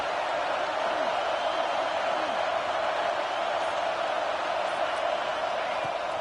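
Steady stadium crowd roar from a football video game, a dense, continuous wash of massed voices holding at an even level throughout with no breaks.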